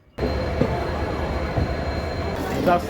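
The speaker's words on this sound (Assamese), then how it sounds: "ৰেলৰ পৰা জাষ্ট নামিলোঁ" A train at a railway station in Guwahati, heard as a steady close rumble of rolling stock with a metallic squeal near the end, continuous throughout.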